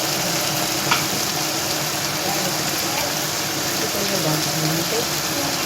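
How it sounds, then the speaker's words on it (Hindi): Chopped tomatoes fry with chicken and potatoes in a pot for chicken aloo pulao, giving a steady, dense sizzle that stays loud and unbroken throughout, with a soft knock early on. "इसके साथ ही हम इसमें टमाटर डाल देंगे, ताकि टमाटर भी जो है हमारे साथ के साथ ही भून जाए"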